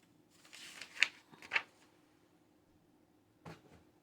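Hands rummaging through a basket of cut paper images, producing a few quiet papery rustles and light taps spaced irregularly, close and soft in an otherwise quiet room.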